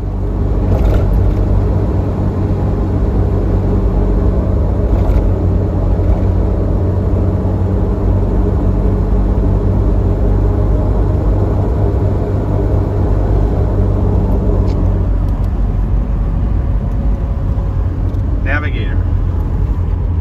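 Steady, loud engine drone and road rumble heard from the passenger seat of a 1968 Jaguar E-type Series 1.5 roadster driving on a club rally, holding a constant low hum with a brief change in tone near the end.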